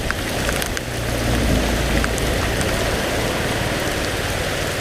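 Heavy rain pours steadily while cycling through Paris streets, a dense continuous hiss of drops on wet road and surfaces, loud and unbroken, with a low rumble of traffic underneath.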